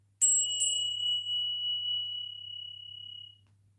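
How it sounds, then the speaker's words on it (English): A small hand bell is struck twice in quick succession in a quiet room. The bright, clear ring then sustains and slowly fades over about three seconds. "I'm going to ring my little bell."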